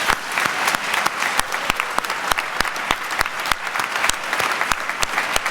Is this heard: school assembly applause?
yes